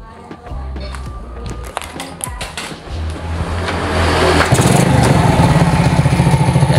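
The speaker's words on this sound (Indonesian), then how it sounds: "Jadi untuk pengetesan kiprok ini tentu kita harus hidupkan motor ya teman-teman." A Honda Grand motorcycle engine starts and runs up close, loud idling chugs and clatter that swell into a denser, rougher roar; no one speaks.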